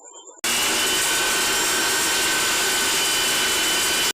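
A mixer jar grinds dry-roasted biryani masala, kicking in after a brief quiet moment and then running as a loud, steady, high-pitched whirring roar until it cuts off.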